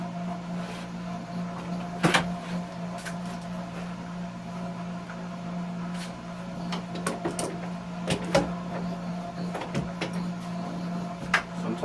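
Metal clamps click and knock irregularly as they are adjusted to hold a seat cushion piece down on a workbench, with sharp, scattered taps heard over a low, constant background hum.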